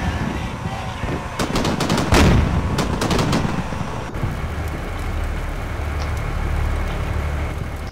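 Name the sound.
T-72 tanks firing, from video game Combat Mission Shock Force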